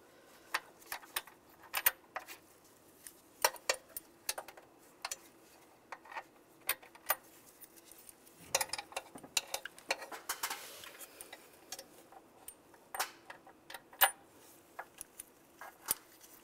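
Bolts being threaded by hand onto the brake booster of a 2007-2013 Chevrolet Silverado 1500, a run of light metallic ticks and clicks scattered irregularly throughout, close and fairly quiet.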